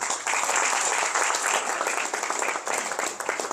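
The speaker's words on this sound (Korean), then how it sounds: "박수로 환영해 주시면 고맙겠습니다" An audience at a 50th-anniversary ceremony of a memorial foundation applauds loudly, a dense burst of clapping that stays strong and steady for a few seconds without speech.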